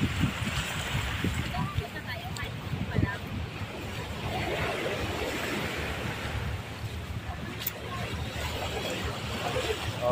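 Waves wash in at Dolomite Beach along the shore, a continuous rushing surf with wind, heard beneath occasional talking.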